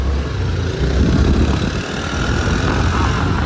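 A car engine runs steadily on a road through a forest area, a continuous low rumble filling the whole stretch without talk.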